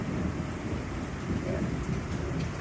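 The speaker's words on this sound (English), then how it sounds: "It's raining and storming and God's talking." Steady heavy rain with rolling thunder from a thunderstorm fills the whole stretch as a continuous loud wash, and a voice briefly speaks once near the middle.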